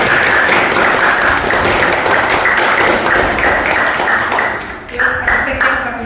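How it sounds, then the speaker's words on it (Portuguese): Audience applause at the close of a talk at an exhibition discussion event, dense steady clapping from a crowd filling the room, fading slightly near the end while a few voices murmur underneath. "Uma salva de palmas, né?"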